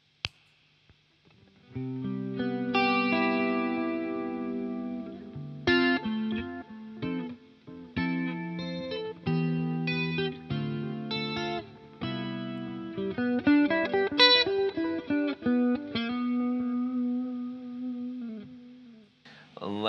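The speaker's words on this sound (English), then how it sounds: "Let's throw a little delay on that now" Clean electric guitar notes and chords through delay and chorus pedals into a Boss Waza amp ring out with echoing repeats trailing behind them and a slight warble, played solo and up close.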